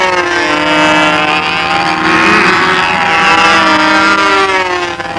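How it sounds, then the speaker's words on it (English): Loud engines run continuously at close range, with a droning, slightly rising and falling tone like high-revving motors. "especially with these engines running in the background"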